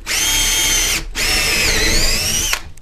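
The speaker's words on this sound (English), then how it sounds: "I got my four sets of antler holes drilled" A power drill boring holes in antler for basket making: two loud sustained high whines, the first about a second long, a short pause, then a longer run that ends abruptly, close up.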